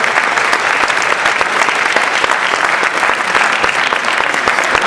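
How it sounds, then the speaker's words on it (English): Sustained applause from an audience at a high school National Honor Society induction ceremony, dense and steady clapping filling the room at close range with no pauses. "give them a round of applause"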